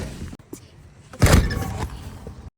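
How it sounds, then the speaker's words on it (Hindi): A front door opens and closes close by, with a soft click, then a louder thud and rattle as it shuts, and a brief trailing settle before silence. "दरवाज़ा खोलते हैं, दरवाज़ा बंद करते हैं"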